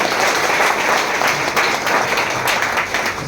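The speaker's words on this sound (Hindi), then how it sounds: "सुजीत कुमार सिंह एक बार जोरदार तालियां उनके लिए बजा दीजिए।" Loud, sustained audience applause from a large crowd at a gathering, dense clapping filling the whole stretch without a break.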